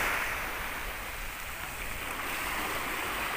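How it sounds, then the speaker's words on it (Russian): Steady broadband wash of sea surf rolling onto the shore, a continuous hiss and rumble without pauses, with no voices present. "какое море сегодня замечательное"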